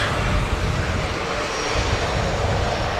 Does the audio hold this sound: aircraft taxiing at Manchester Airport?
yes